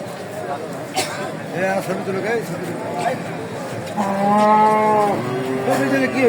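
Cattle, including heifers, at the Dakumara livestock market in Bogura give one long, loud moo in the second half, over steady crowd babble and nearby voices.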